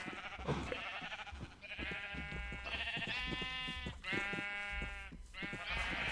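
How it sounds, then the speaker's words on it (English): Sheep in the video game Minecraft bleat several times in a row, about five wavering calls close together, clear and fairly loud against a quiet background. "Did I see sheep out of the pen?"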